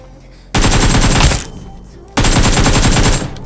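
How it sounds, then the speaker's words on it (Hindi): Gunfire in the BGMI PUBG Mobile battle royale game: two loud, dense bursts of rapid automatic fire, each about a second long, separated by a short quieter gap. "और कासल पे से किसी ने मेरे ऊपर गोली चलाई"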